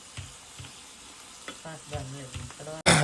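Brinjal bharta tipped into a pan already holding chutney, with soft clinks and faint tonal clatter before a sudden loud burst of sizzling right at the end.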